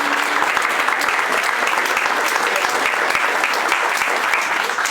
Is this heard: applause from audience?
yes